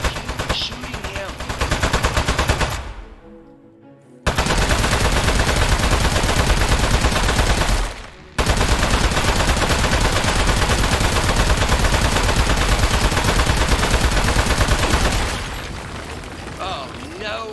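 Loud, dense bursts of rapid automatic gunfire from the video game Aperture Desk Job, nearly continuous, with two brief pauses and a softer tail at the end.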